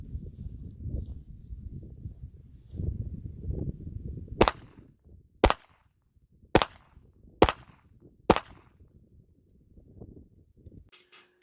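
Five sharp gunshots from reloaded 9mm steel-case ammunition fire at roughly one-second intervals outdoors, loud and close, each with a short ringing tail, preceded by low rumbling wind and handling noise.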